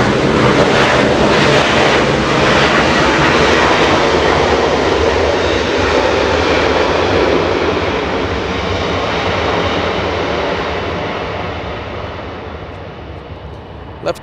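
A heavy Airbus A340 jet on short final to a runway at Los Angeles International Airport roars loudly overhead, its engine noise sustained and then slowly fading.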